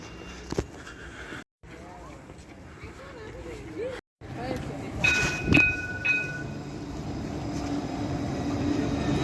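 Tramway T2 train in Issy-les-Moulineaux rumbling along the rails on a city street, with a few brief gaps and some higher squeals and tones as it passes, loud and near, with someone talking over it.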